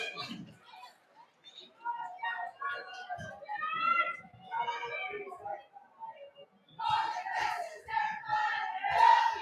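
Football crowd at Kingston Park singing a chant, rising and falling in waves of many voices, distant and echoing, with short lulls between phrases.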